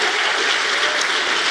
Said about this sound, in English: Let's give Jason a round of applause,